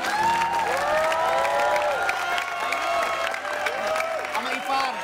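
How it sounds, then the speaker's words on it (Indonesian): A studio audience applauds and cheers on an Indonesian family talk show, a steady crowd clapping that lasts throughout, mixed with bright musical tones and some voices. "Nah, tepuk tangan dong."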